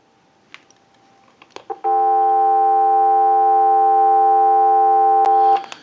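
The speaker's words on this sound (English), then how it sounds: "Now what we can do is go ahead and give you some dial tone." After a few faint clicks, a steady telephone dial tone sounds continuously for several seconds through a Western Electric 323 candlestick telephone, clear and close, then cuts off.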